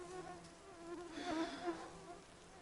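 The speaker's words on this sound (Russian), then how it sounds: "Комарья, конечно, достаточно тоже хватает." Faint, continuous insect buzzing with a wavering whine, several mosquitoes close by, rising slightly in the middle, no voices.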